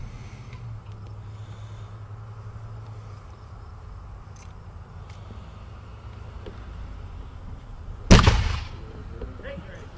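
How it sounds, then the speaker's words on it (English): Reenactors fire a cannon at a Dewey Tavern ceremony: one sudden, loud boom near the end that trails off, after a long stretch of quiet outdoor ambience with faint insects and distant hum. "Another cannon shot."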